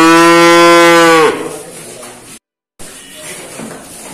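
A Doro cow on an Indonesian farm lets out one loud, close, drawn-out moo lasting over a second, followed by quieter farmyard background noise with a brief dropout.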